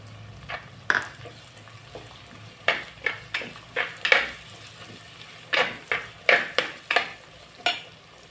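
Curry leaves dropped into hot oil for a dried-fish curry sizzle quietly while a spoon stirs and scrapes the pan in repeated sharp clicks and knocks, close up with no talk.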